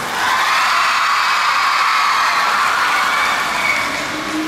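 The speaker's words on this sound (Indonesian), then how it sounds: "Tepuk tangan lagi, saya lagi keras." Large audience at a cooperative's annual meeting closing in Kupang keeps up loud, sustained cheering and applause, a dense unbroken roar of crowd noise from start to finish.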